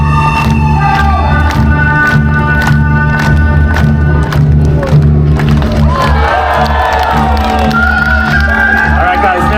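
An audience at a buskers festival fire show claps along in a steady rhythm, loud and close, mixed with cheers and whoops, while music plays underneath.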